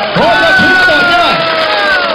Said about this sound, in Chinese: 咱个拍一个掌声欢迎